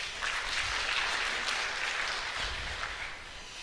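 Steady audience applause at an AI in higher education summit, dense broadband clapping from a crowd, continuous and fairly even for a few seconds with no talk over it.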